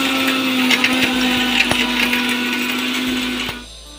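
A kitchen mixer grinder whirs loudly and steadily as it grinds a dried spice mixture, including papad khar, into powder, its motor hum holding constant before winding down near the end.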